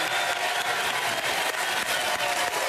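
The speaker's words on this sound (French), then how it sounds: "on peut l'applaudir" Studio audience applauding on a French television quiz show, a dense, steady wash of clapping that fills the whole stretch, loud and close, with no voices over it.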